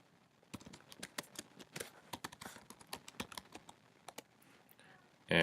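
A password is typed on a computer keyboard in a quiet room as an irregular run of crisp, fairly faint key clicks. A louder rustle or bump comes at the very end.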